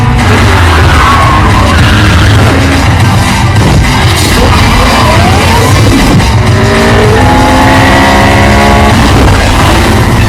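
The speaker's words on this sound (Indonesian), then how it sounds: "Brian pun langsung tancap gas ketika Roman kembali." Race cars in a street race roar loudly as engines rev and climb through gears, with rising whines and tire squeal, constant and close throughout.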